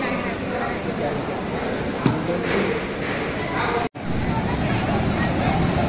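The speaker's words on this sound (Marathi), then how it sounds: "एवढ्या लाटा येत आहेत जोराच्या" Strong sea waves surging at high tide on the Ganpatipule shore in rain, a continuous loud roar of surf with wind buffeting the microphone and a brief dropout partway through.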